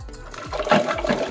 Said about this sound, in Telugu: బాగా చిలికాక వాటర్ పోసుకుందాం